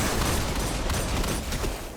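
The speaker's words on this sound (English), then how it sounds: "I'm going to throw a grenade." Grenade blast in the Destiny 2 Empty Tank Legend Lost Sector, heard as a dense, roaring burst of explosive noise and rattling gunfire-like crackle that stays loud and sustained for two seconds, with no talking.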